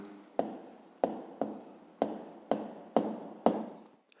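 Writing an answer by hand to a school maths exercise makes seven crisp pen-on-paper taps and strokes, spaced about half a second apart. Each one fades quickly, and the sounds are close and quiet with no voices.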